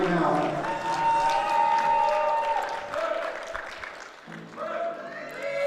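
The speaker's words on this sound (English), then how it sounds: "Somebody clap their hands for Chloe right now." An audience claps and cheers for a lifter's bench press record attempt at a national classic powerlifting championship, loud and close, while an announcer talks over the applause.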